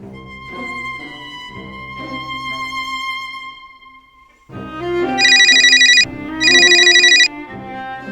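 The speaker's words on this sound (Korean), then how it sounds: "5월 17일 오후 5시 총학생회실 전화벨이 다급하게 울립니다" A telephone bell rings urgently in a student council office in a radio drama, two loud bursts of ringing over music, with a brief pause between them.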